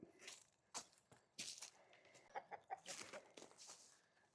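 Chickens clucking and chattering nearby in short, irregular bursts, a few sharp clucks among softer murmurs, fairly quiet.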